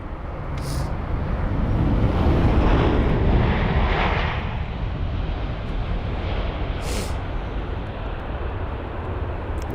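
An Airbus A380 departing London Heathrow at sunset, a loud, broad jet engine roar that swells and then holds steady as it passes, with no talking.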